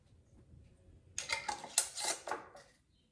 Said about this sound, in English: put the lids on.